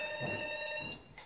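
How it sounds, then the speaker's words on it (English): Walkie-talkie with a dying battery giving off a repeated electronic beeping tone, a bright steady ring-like signal indoors that fades near the end, fairly quiet with no talk. "the walkie-talkie you brought up here."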